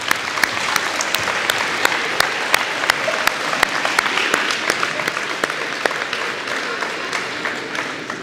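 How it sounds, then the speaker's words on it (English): Audience at a middle school academic awards ceremony gives a sustained round of applause for award recipients, dense steady clapping filling the room with sharp individual claps standing out throughout. "One more big round of applause for everyone who received an award."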